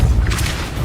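The Depulso spell cast in Hogwarts Legacy, a short deep booming burst with a soft whooshing release, loud and close.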